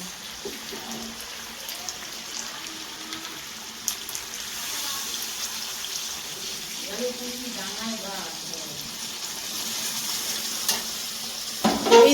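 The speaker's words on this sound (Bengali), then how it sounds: "এবার আমি এই গরম করা জলটা এর মধ্যে ঢেলে দিচ্ছি" Hot water is poured into a pot of well-browned duck meat, producing a hissing sizzle and a rushing pour that rises toward the end, with faint background noise.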